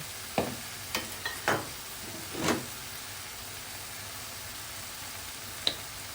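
Chicken stir-fried with chili and seasonings in a pan gives a low steady hiss, broken by a few sharp spatula scrapes and clanks.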